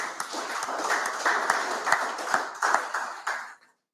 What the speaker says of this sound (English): Just give the minister a round of applause for that.